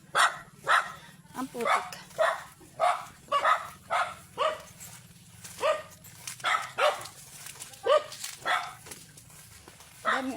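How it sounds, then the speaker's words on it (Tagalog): Several dogs bark repeatedly in a rural farm setting, a steady run of loud, sharp barks and yips close by, with a person saying a brief phrase among them. "Daming aso."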